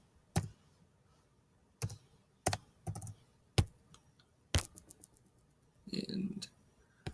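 Calculator keys being pressed to enter numbers, sharp isolated clicks spaced unevenly across several seconds, close and fairly quiet, with a brief voice murmur near the end.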